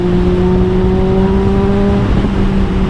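A Honda CBR650R motorcycle fitted with an Austin Racing GP1R exhaust on a night ride holds a loud, steady engine drone. Its pitch stays almost level and then dips slightly near the end, with no voices.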